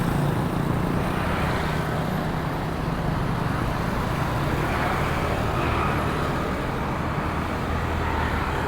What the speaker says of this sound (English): A lot of traffic out today.